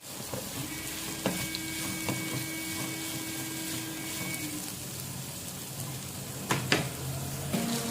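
Chopped onions frying in hot oil in a pan for Telugu-style puri curry, a steady broadband sizzle with occasional utensil taps and stirring clicks, close and continuous with no talking.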